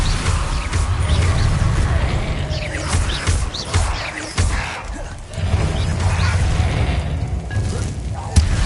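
Blasting-spell explosions in Hogwarts Legacy, repeated heavy booms and crashes over a rumbling battle bed, with a voice speaking between them.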